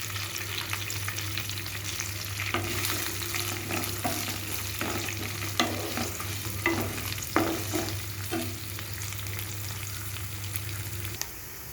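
Dried red chillies, onion and green chilli pieces frying in oil in a pan: a steady close sizzle with repeated scraping and stirring clatters, a low hum running underneath.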